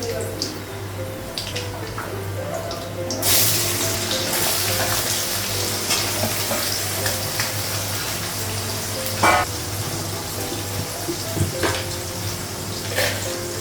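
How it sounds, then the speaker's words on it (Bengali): Potatoes, chillies and onions frying in a pan with a continuous sizzle and occasional stirring scrapes, a steady low hum underneath and a voice talking over it at times. "আলুটা ভাজলাম, লঙ্কাগুলো ভাজা হয়ে গেছে, পেঁয়াজটা লাগালাম"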